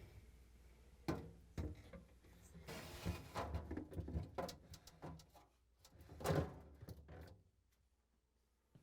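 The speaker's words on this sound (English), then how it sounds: "now I'm going to slide the shelf in." Shelf sliding into a Frigidaire/Electrolux refrigerator, a series of close plastic clicks, scrapes and knocks in irregular bursts with brief rattling.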